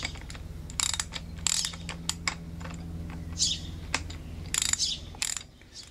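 Mechanical clicking of a torque wrench tightening the damper-side bolt on a 2008 Fox 32mm Talas suspension fork, a series of close, sharp ratcheting clicks in irregular bursts over a low steady hum.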